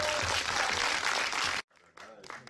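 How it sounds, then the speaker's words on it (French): Studio audience applause for Maud during a live French broadcast, a dense, loud wash of clapping for about a second and a half that cuts off abruptly, followed by quieter talking. "Applaudissements pour Maud."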